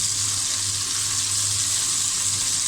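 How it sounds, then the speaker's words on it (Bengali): Shing fish fries in hot oil, giving a steady, close, loud hiss of sizzling with a faint low hum underneath, unbroken and free of speech. "এখন আমি শিং মাছটা ভেজে নেব।"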